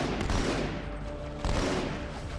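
A grenade goes off in Halo 2, two sharp blasts about a second apart over loud, dense combat noise.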